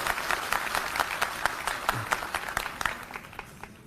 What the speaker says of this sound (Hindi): एक बार जोरदार तालियां हमारे सभी माता बहनों के लिए